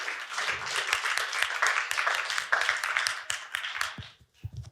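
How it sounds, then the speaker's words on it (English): An audience at a museum talk on public mediation claps for a speaker, a dense round of applause that thins out into a few scattered last claps near the end. "Emma, on peut l'applaudir."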